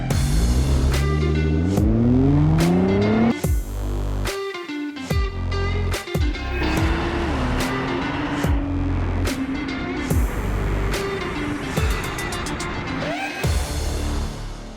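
2021 Nissan GT-R NISMO with its twin-turbo 3.8-liter V6 and six-speed dual-clutch gearbox, revving hard through rising gear pulls with sharp shift breaks, loud and close throughout.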